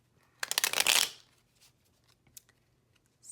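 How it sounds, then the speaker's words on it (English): Tarot cards shuffled by hand: a quick, dense riffle of crisp flutters close by, followed by a few isolated soft card taps and snaps in a quiet room. "It would help if I shuffled a little bit better here."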